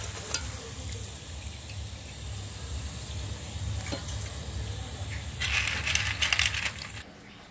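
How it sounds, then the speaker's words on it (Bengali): Pitha cakes frying in hot oil, a soft, even hiss that swells into busier bubbling near the end before cutting off, with no talking. "এরকম করে বন্ধুরা আমি সবগুলি পিঠা ভেজে নিচ্ছি"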